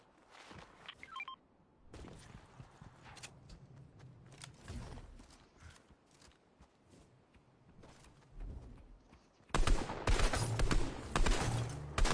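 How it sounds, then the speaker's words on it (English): Video game cannon fire with repeated booming blasts and rapid bursts, loudest near the end, plus mechanical clicks in between. "Someone's got a cannon up here, bro."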